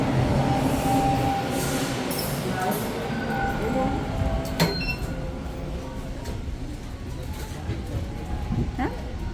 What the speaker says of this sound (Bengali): এদিকে ট্রেন এসে হাজিরও হয়ে গেছে